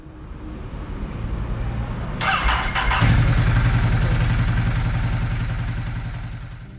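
A Ducati Hypermotard 939 with starting issues cranks with a short whirring clatter, then fires and settles into a loud, close, steady idle with a low throbbing rumble.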